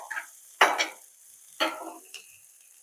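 Green chillies and garlic in about one and a half ladles of oil for Maharashtrian mirchi thecha get stirred, giving three short scraping, sizzling bursts close by with quiet gaps in between.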